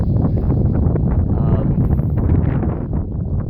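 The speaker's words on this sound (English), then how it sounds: "Pardon the wind." Steady, heavy wind buffets the microphone with a constant low rumble and roar for the whole stretch, no pauses.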